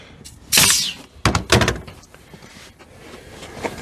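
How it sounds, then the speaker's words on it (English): A brad nailer drives brads into fence picket wood during a DIY container build, giving a few sharp, loud, close bangs with short gaps between them. "Shoot a brad in. And then maybe put one in the middle."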